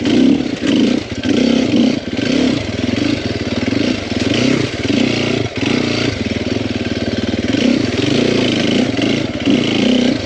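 A 2021 Sherco 300 SEF Factory Edition four-stroke dirt bike engine runs close and loud, its note rising and falling in repeated revs over a steady throb.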